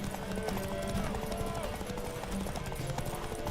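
Horse hooves clip-clop in The Witcher 3, a steady rhythm of trotting steps beneath game music and voices talking over it.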